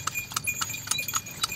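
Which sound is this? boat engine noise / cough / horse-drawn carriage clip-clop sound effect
horse-drawn carriage clip-clop sound effect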